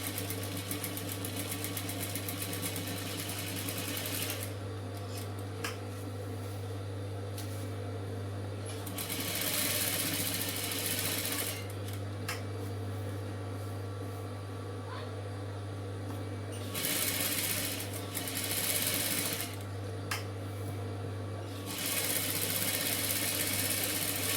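A sewing machine stitches the front neck of a chudidar in several bursts of fast whirring needle runs, close and clear, separated by short pauses with a low steady hum underneath.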